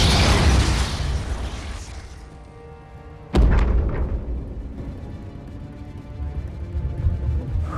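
A nuclear bomb explodes in the Korean action film Steel Rain: a rumbling roar fades, then a sudden loud boom strikes and rolls out into a long, slowly decaying rumble, with no speech.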